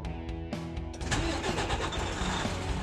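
A truck's diesel engine cranks with a few sharp starter clicks, then catches and settles into a steady, loud idle close by, with no talking.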